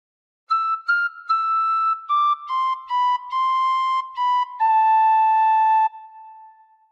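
A tin whistle plays a melodic phrase, a string of clean, breathy notes stepping gently downward before a long held final tone that fades away, with no voices.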